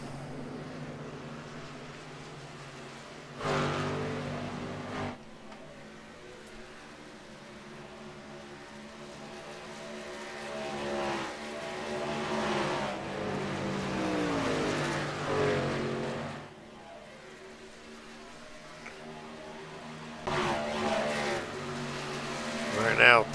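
Race cars roaring around an oval track at a Chicagoland contender-series event, engines droning continuously with swells as cars pass, under steady commentary.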